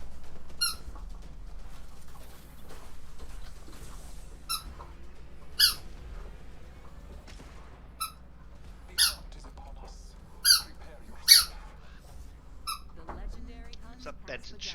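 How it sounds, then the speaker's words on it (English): Dog chewing a squeaky toy, with sharp high squeaks coming in irregular bursts over about fifteen seconds beneath a steady low hum and faint background voices. "Is that Benson chewing a squeaky toy"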